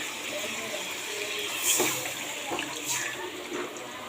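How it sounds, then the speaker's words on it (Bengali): Liquid gravy pouring into a pan as rohu fish is added for a Bengali fish curry, a steady close wash of pouring and splashing with a couple of brief louder splashes. "এখন দিয়ে দেবো মাছ আর দিয়ে দেবো ঝোল"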